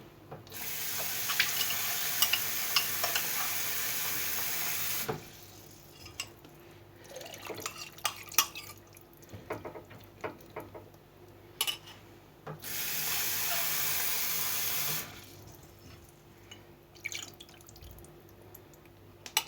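Water runs steadily from a tap in two long pours, with drips and small clatters in between.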